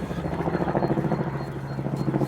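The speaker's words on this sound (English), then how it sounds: "I'll just cut it off while that flaming helicopter goes over" A helicopter passes over a UK allotment with onion and garlic beds, producing a steady, loud rotor drone with a pulsing low thrum that fills the whole stretch.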